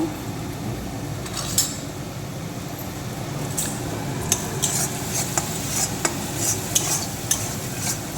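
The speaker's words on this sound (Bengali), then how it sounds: "যতক্ষণ না এটার মধ্যে থেকে তেল ছাড়ছে ততক্ষণ এটাকে ভালো করে নাড়বো" Spice paste stirred in an oil-filled pan for chhana bara until the oil separates: a steady low sizzle with repeated sharp spoon scrapes and clinks against the metal, close up, with no talking.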